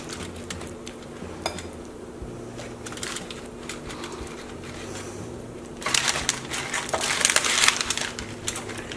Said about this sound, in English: of great northern white beans and kind of squishing them.